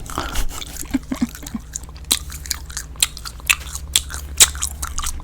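Close, wet gum chewing with sticky smacks and small crackling pops in an irregular rhythm, intimate and alone with no speech.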